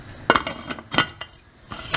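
Metal lid set onto a pressure cooker holding black-eyed pea curry, a few sharp clanks and scrapes of steel against steel, close and brief, with quiet gaps between.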